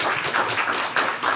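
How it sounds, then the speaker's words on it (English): An audience in a conference room claps in brief, uneven bursts at moderate loudness, with no voices over it. "I see clapping in the room"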